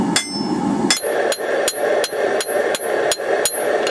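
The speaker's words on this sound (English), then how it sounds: "set the piece over the edge of the anvil closest to you, take your hammer, make half on" Hammer blows on hot steel held over the edge of an anvil while forging an offset for a hanging hook: a loud single strike, a pause, then a steady run of ringing half-on, half-off blows at an even pace, close and alone.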